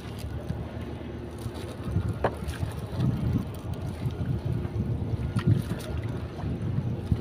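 Wind gusts against a fishing boat, producing a steady low rumble of buffeting and water noise that swells slightly midway through.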